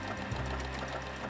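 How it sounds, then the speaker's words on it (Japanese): A sewing machine runs steadily at home, its needle chattering in a fast, even rhythm under a low motor hum, close and continuous with no voices. "一人暮らしだからいつでも音を気にせずにミシンが使えます。"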